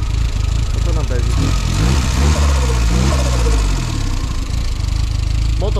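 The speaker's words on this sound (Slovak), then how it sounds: "Motor fajne beží" A Škoda 130 with a modified turbo and exhaust idles steadily close by, a low continuous engine drone with slight unsteady swells, while people talk over it.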